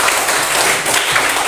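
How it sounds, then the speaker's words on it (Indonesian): A brief burst of loud, dense audience applause in a classroom-style Catholic catechesis lesson session, continuous clapping with no pauses. "Mari kita beri tepuk tangan."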